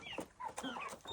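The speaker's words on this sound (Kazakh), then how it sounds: "5 тауық, бір әтеш келді" Light Brahma hens and a rooster give short, soft clucks and chirpy calls, several quick sounds over about a second, heard close and fairly faint.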